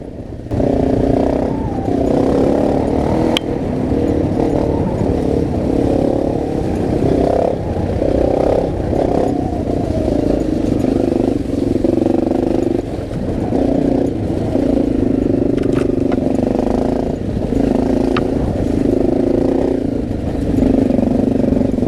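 Off-road motorcycle riding over rough terrain, the engine droning loud and close with shifting revs and bursts of throttle, plus occasional rattles from the bike, continuous throughout.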